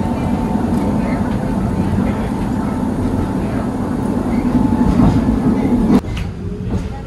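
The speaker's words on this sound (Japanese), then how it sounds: "大変古い車両ということで、轟音を響かせながら併用軌道を駆け抜けていきます。" A very old German-built Fukui Railway tram roars loudly along street-running track, a steady close rumble with rattling that drops sharply near the end, some voices faintly underneath.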